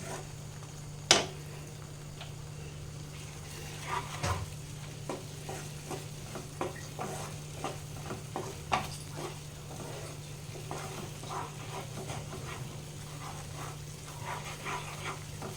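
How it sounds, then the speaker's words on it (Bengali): Paneer masala is stirred in a pan over a low flame, producing a quiet, continuous sizzle punctuated by intermittent scrapes and taps of the spoon against the pan. "এইভাবে নাড়াচাড়া করে একটু হালকাভাবে ভেজে নিতে হবে"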